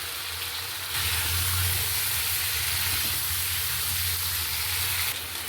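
Cut eggplant and potato go into a pan of mustard-spiced pangas fish, setting off a steady, close sizzle and hiss that swells after the first second and holds with no voices.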